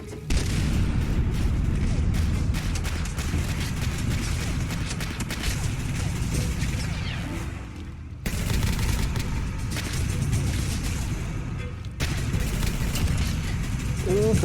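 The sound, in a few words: grenade explosions in video game Fallout 4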